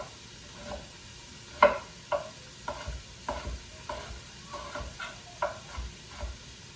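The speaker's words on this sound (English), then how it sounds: "this is when I give everything a good stir" A spoon stirs chopped carrots, celery and onion in a pot for a ham chowder, giving a series of soft scrapes and clacks at an irregular pace against a light sizzle.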